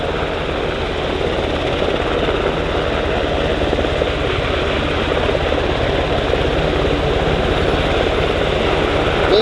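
Two US Coast Guard helicopters, an MH-60 Jayhawk and an MH-65 Dolphin, hover during a search-and-rescue hoist demonstration at an airshow in London, producing a steady, loud, continuous rotor and turbine roar throughout.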